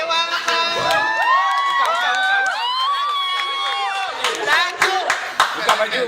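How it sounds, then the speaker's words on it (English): Crowd at an engineering show claps and cheers for a volunteer called up on stage, with excited shouts and voices rising over the clapping; lively and close, tapering into scattered claps and chatter near the end. "Give him a round of applause"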